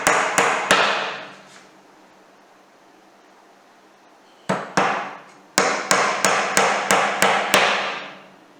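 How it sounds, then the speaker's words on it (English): Small nails are driven into a wooden Beecastle beehive with a small hammer: three sharp strikes, a pause, then a steady run of about nine close, crisp blows. "but these small nails, I prefer to use a smaller hammer"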